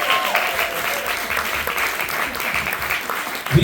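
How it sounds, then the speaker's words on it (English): Audience applause at a Q&A, a steady wash of clapping from a room of people, moderately loud and continuous throughout. "Let's give Jamal a round of applause."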